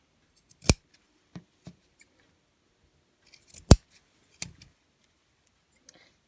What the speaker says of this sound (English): Clip the corners.